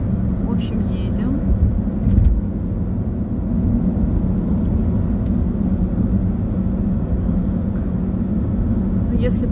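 Car driving through Tashkent streets, a steady low road rumble and engine hum from inside the cabin with a few brief knocks, while someone talks over it.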